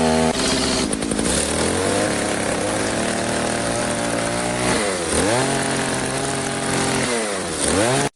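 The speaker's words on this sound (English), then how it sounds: "He yanks the chainsaw starter. After a few sputters, it roars to life," A chainsaw is started for carving a log cabin joint in deep winter, sputtering briefly before settling into a loud, steady roar, with its pitch dipping and rising twice as the engine is revved, close by and alone.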